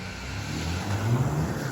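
An RC rally car's electric motor whines and rises in pitch as it revs during a race, a short continuous buzzing sweep heard close and fairly loud.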